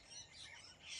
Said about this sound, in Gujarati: અહીંયા પોપટ તો જો કેટલા બધા મોટું હે ટોળું છે